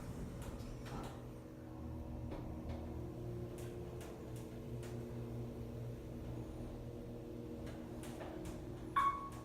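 An Otis hydraulic elevator at a resort building hums with a steady low motor drone while the car travels, with faint clicks and ticks and a brief sharp chime near the end.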